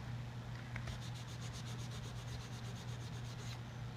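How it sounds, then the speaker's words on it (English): Wet 400-grit sandpaper rubbing an enameled silver piece in quick, even back-and-forth strokes, a soft rhythmic scratching over a steady low hum. "we're starting with the 400 grit green sandpaper"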